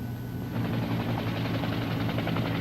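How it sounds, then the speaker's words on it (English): A television news camera helicopter flies overhead above a crash site, its rotor giving a steady, rapid thumping drone of moderate loudness that holds throughout. "a television news camera helicopter overflew the crash site"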